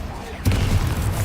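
The Confringo spell is cast in Hogwarts Legacy, giving a sudden explosive burst followed by a rumbling crackle.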